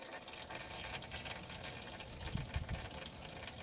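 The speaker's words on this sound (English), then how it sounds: "It drains the oil down." Engine oil draining from the oil pan of a 2011 RAM 4.7L, a faint continuous trickling pour with a few small splashes, quiet and steady throughout.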